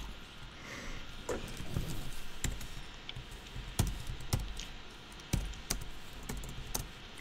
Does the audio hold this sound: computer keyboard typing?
yes